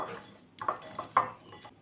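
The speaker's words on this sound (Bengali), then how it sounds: "ভালো করে মিশিয়ে দিচ্ছি মশলাটা" A spoon clinks and scrapes against a bowl while spices are mixed into raw mango pickle, with a few sharp metallic taps spaced irregularly over quiet kitchen background.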